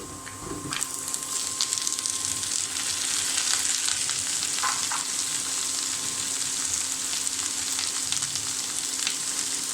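Greens drop into a hot pan for a winter cauliflower and egg curry, setting off a sudden burst of sizzling that settles into a continuous hissing fry with faint stirring.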